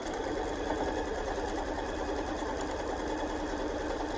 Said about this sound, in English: got to do your back stitch